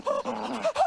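Short burst of a dog's panting and soft whimpering yips from a beer commercial, close and fairly loud, lasting under a second with no talking.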